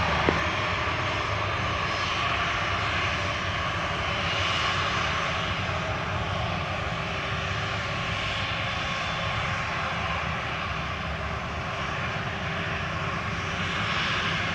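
Steady, loud aircraft engine roar from an airplane at Montego Bay airport, Jamaica, running continuously throughout with no breaks or talk.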